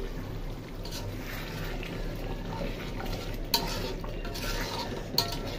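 Beef liver curry being stirred in a pan at home, a steady low cooking hiss with soft scraping and two brief sharp clinks of a utensil against the pan, no talk.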